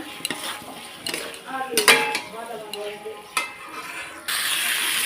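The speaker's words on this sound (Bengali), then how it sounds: "আলুগুলো দিয়ে ভালোভাবে একটু কষিয়ে নেব" Potatoes are sautéed in spice masala in a pan for a vegetarian potato dish, with a spatula scraping and clanking against the metal in irregular strokes over a low sizzle that swells into a louder, steady hiss at the end.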